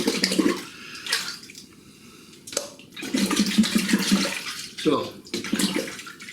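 Tap water runs into a sink in bursts while a shaving item is rinsed and rubbed clean, splashing loudly close by, stopping and restarting several times, with a few spoken words.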